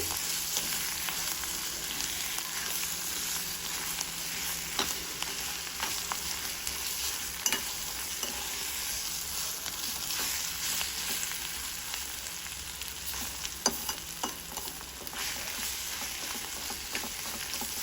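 Carrot pickle simmers in a pan with a steady, close sizzle that runs throughout, broken by scattered small pops and crackles and no voices.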